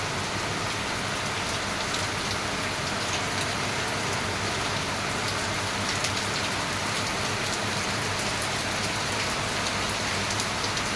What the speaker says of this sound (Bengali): এত সুন্দর বৃষ্টি হচ্ছে